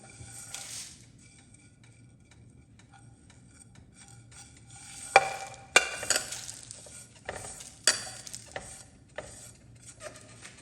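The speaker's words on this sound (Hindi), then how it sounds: "अब इसको थोड़ा सा हम ब्राउन कर लेते हैं, ज़्यादा नहीं, बस खुशबू आनी शुरू हो तो समझ जाएं कि भून गया है मसाला।" Fennel, fenugreek and nigella seeds dry-roasting in a pan for achari masala, with scattered scraping stirs and clicks of a spoon against the pan over a quiet background, growing busier in the second half.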